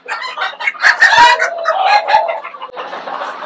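Small-breed chickens with upright tails cluck and squawk loudly and close by, a burst of agitated calls running nearly continuously before a rustling, noisy tail end.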